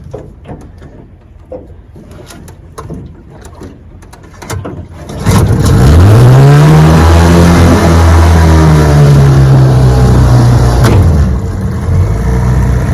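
A restored Johnson Seahorse outboard motor on a lake, with a rebuilt power head, starts after some handling clatter. It settles into a loud, steady running drone close by, and its pitch rises and falls slightly.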